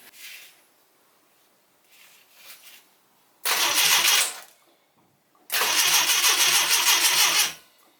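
Citroen GS GSA 1.3 engine starting for the first time: weak cranking attempts, then two loud close bursts of starter cranking and sputtering, with no talk.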